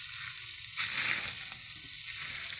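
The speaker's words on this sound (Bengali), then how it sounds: "প্রথমে তেল দিয়ে জিরা ফোড়ন দিলাম, তারপরে পেঁয়াজ কুচি," Chopped onion and chili fry in hot oil with cumin seeds, giving a steady, close sizzle with brief surges of louder spitting as the pan is stirred.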